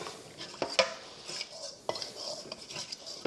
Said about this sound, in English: And just stir that around.